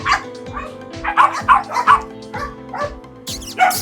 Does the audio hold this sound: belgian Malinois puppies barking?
yes